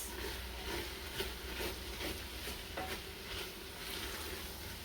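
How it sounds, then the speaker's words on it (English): Spoon stirring cooked Lebanese rice in a pot, faint soft scraping strokes in a loose repeating rhythm over a low background hiss. "I'll do one last mix"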